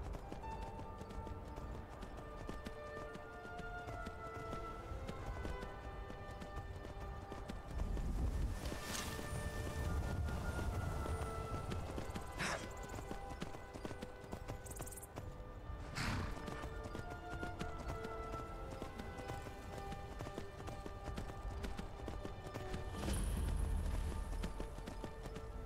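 Horse hooves galloping in Skyrim Special Edition, a steady clip-clop rhythm running throughout at moderate loudness, with a couple of brief louder swells and occasional high ambient tones from the game world.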